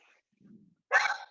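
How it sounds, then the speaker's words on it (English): Juniper the dog gives a short, loud bark near the end of a quiet stretch, preceded by a faint low murmur, heard during a yoga class setting. "Juniper's barking"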